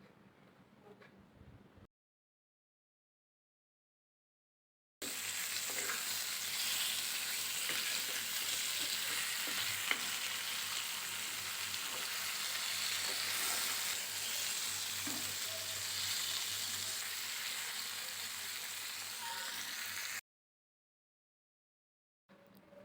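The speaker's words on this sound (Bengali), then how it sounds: "এখন আমি মাছগুলো ভেজে নিব।" Pieces of rohu fish, rubbed with turmeric and salt, fry in hot oil in a frying pan with a steady, dense sizzle lasting about fifteen seconds, framed by short silences.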